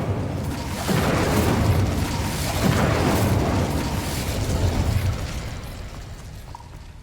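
Incendio fire spell cast in the video game Hogwarts Legacy, a loud, dense roaring burst with swelling whooshes that rise and fade over several seconds, with no talking.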